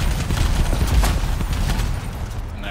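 Rapid gunfire bursts in the video game Anthem as a shield is shot, a loud, dense crackle of shots with impacts running continuously throughout.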